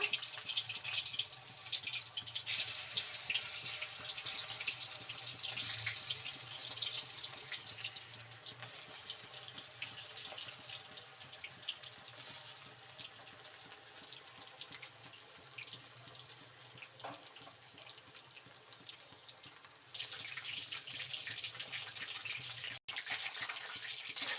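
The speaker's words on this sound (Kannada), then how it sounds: "ಇವಾಗ ಎಣ್ಣೆಯಲ್ಲಿ ಕರಿಯೋಣ ಬನ್ನಿ" Garlic kebabs frying in hot oil give a continuous, close, hissing sizzle that stays fairly even throughout, with a slight rise and dip in intensity.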